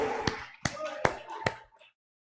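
A congregation at a church service claps for the Lord in four distinct, slow, sharp claps spaced about a second apart, fairly close and moderately loud, with a murmur of voices underneath, then the sound fades out.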